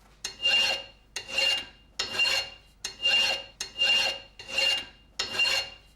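A hard metal surface being burnished: seven rhythmic rasping strokes, each a bright scraping swell with a faint ringing edge, evenly paced and close up, with no voices.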